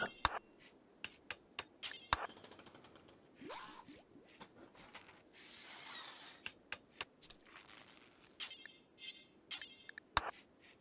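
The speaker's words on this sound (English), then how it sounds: "Smashing random stuff." Clinks, knocks and glassy impacts scattered irregularly over steady ambient game noise as a RimWorld colonist in a tantrum smashes random objects, with sharp hits standing out near the start and end.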